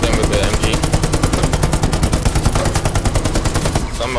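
A machine gun in the World War II shooter Hell Let Loose fires a long, rapid, unbroken burst, loud and close, with rounds evenly spaced until it stops near the end.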